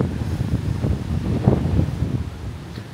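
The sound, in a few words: wind on a beach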